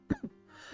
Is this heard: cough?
yes